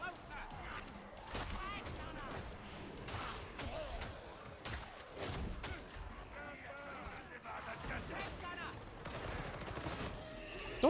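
Gunfire and combat bursts from the co-op shooter game Warhammer 40,000: Darktide, with dense, overlapping shots, impacts and clatter running through the whole stretch under game voices and talk.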